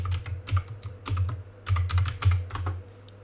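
Someone types a short phrase on a computer keyboard, a close burst of quick key taps with a brief pause midway, fairly quiet and without speech.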